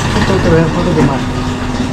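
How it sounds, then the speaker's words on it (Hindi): An old air compressor runs in a motorcycle mechanic's workshop in Pakistan, giving a loud, steady low mechanical drone throughout while people talk over it. "कंप्रेसर, ये कितना पुराना कंप्रेसर है?"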